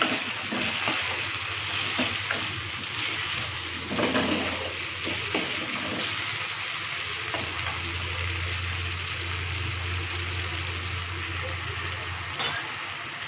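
Spices, tomatoes and dried red chillies fry in a pan with a continuous moderate sizzle, broken by occasional scraping stirs and clinks of the spatula.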